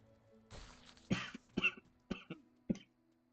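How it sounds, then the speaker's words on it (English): Several separate coughs and throat-clearing bursts in a quiet room, close and fairly loud, spaced unevenly over a few seconds with no talk. "sorry about the coughing"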